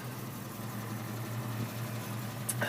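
A 1973 Volvo 142 idles just after starting, a steady low engine hum with an even, continuous tone, fairly quiet and alone apart from a brief click near the end.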